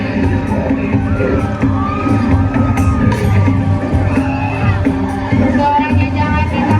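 Riders on an amusement park ride at Mikie Funland in Brastagi scream and shout together in a loud, continuous wash of crowd noise with high whoops rising over it.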